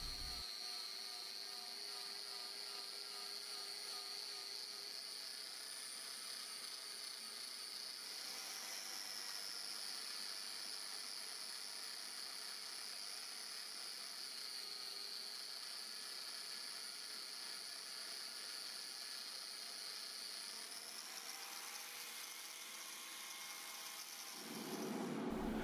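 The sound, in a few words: polishing metal with a polishing felt and brown polishing compound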